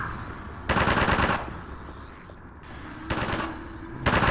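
Half-Life 2: Episode One gameplay as Alyx opens fire, with loud rapid bursts of automatic gunfire in three separate volleys and short pauses between them.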